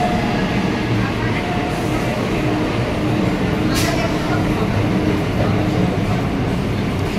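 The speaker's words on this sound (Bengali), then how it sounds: "আর এইদিকে ট্রেন যাচ্ছে, ওদিকে ট্রেন যাচ্ছে" A train passes at a railway station in the morning, a loud, steady rolling rumble with faint wheel clatter that stays close throughout and has a brief sharp hiss near the middle.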